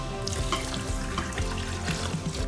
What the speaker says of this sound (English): To the Instant Pot, add 2 cups of steel-cut oats. Add 6 cups of water